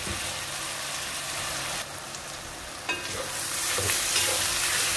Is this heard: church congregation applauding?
no